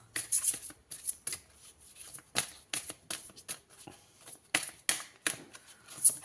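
Tarot cards shuffled close by in a series of crisp riffling bursts with short pauses between, quiet overall and with no voices.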